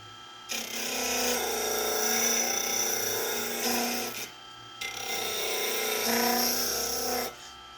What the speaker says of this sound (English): It's a variable speed 5-inch disc sander.